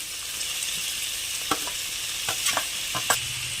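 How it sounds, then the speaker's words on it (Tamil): Cabbage and soy chunks sauté in a pan with onion and tomato, giving a steady close sizzle broken by several sharp stirring scrapes and clatters toward the end. "இப்போ இது கூடவே கட் பண்ணி வச்சிருக்கிற முட்டைக்கோசையும் மீல் மேக்கரையும் ஆட் பண்ணிக்கலாம்."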